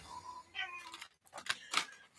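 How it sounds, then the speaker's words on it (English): A house cat meows several times close by, short rising and falling cries in quick succession with brief gaps, fairly soft, in a quiet indoor room. "My cat's just come in to say hello."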